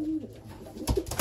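Young pigeons in a loft give a short, soft coo, heard close and alone.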